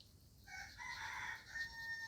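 A rooster crows among free-range chickens on a farm, one drawn-out call that sounds faint and distant against a quiet background.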